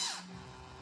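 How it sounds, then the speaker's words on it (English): A power drill bores down into a concrete floor to set bolts for leveling, heard as a brief, close, whining burst. "I'm just drilling down"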